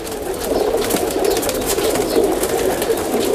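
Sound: pigeons cooing

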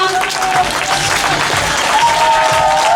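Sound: applause

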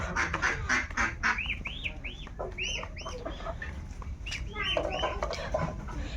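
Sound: ducks and chickens calling

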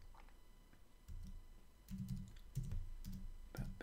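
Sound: typing on a computer keyboard

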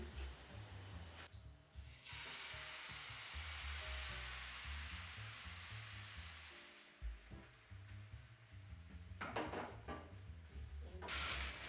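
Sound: pancake batter frying in hot pan

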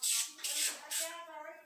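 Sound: spraying degreaser onto bicycle parts

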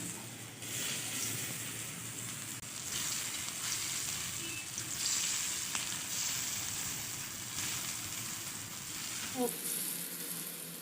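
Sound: frying coriander vadi in oil on an iron pan

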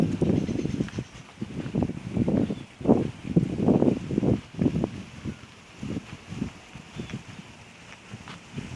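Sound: cool wind blowing

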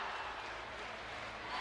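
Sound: sports arena crowd of basketball fans cheering

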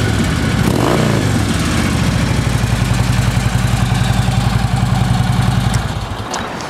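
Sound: Harley Davidson Ultra Classic FLHTCU motorcycle engine running

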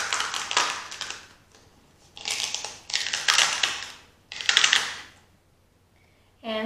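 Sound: peeling a cut stencil sheet from a Silhouette Cameo

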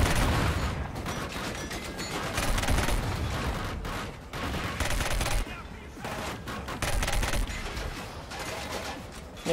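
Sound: gunfire from a gun in Killzone Shadow Fall video game

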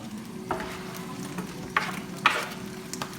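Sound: onion sautéing in a pan for çökertme kebab

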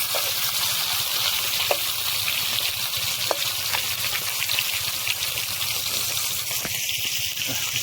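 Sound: frying fresh pond fish

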